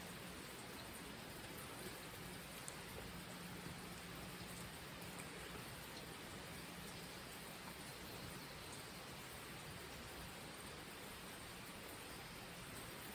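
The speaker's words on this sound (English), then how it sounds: "because it's raining right now." Early-morning rain falling outside, a steady, even hiss of drops on surfaces that stays constant and very quiet throughout, with no voices.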